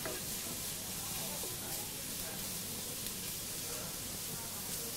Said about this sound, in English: time to go in with our prawns. Give those a turn around in the wok.